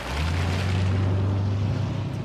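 A huge 6.75-litre V8 car engine drones loud and steady with a deep, constant low hum, continuous throughout with no talk over it.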